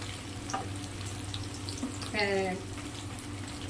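Onions fry in hot oil in a pan with a continuous soft sizzle and crackle, accompanied by a brief voice partway through.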